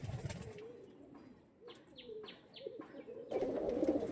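Pigeons kept for sale coo in soft, low murmuring phrases close by, with a few thin chirps and a faint rustle of wings, growing louder and busier toward the end.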